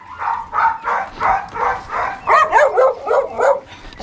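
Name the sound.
dog barking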